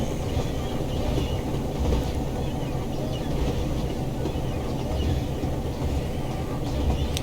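A classic British diesel train running in Train Sim World, a steady close low rumble and engine drone holding throughout with faint rail clatter and no breaks.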